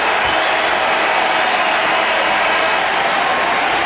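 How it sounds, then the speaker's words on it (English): A basketball arena crowd roaring for the Washington Bullets during a 1997 playoff game against Chicago, a dense, loud, steady wash of cheering without break. "And this crowd solidly behind their Bullets tonight."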